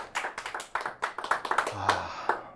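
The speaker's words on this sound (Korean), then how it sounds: "큰 박수 부탁드립니다." Audience members at a leadership talk clap to welcome the next speaker, a fairly sparse, close patter of distinct claps from a modest crowd. A voice briefly sounds over the clapping.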